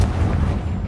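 Confringo fire-blast spell exploding in Hogwarts Legacy, a brief loud rumbling boom with dense low-end burst, alone with no speech.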